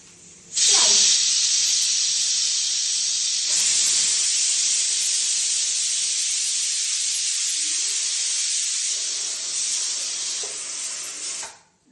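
A pressure cooker releasing steam on a home stove gives a loud, steady, high hiss that starts abruptly, holds with a slight surge near four seconds, and cuts off near the end, alone and close.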